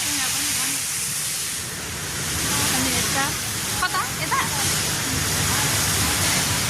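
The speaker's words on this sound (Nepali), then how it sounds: "के बग्दैछ, पानी निक्लिँदैछ यहाँ" Water gushes out in a continuous, rushing flow on a muddy path, loud and close, while two people talk over it.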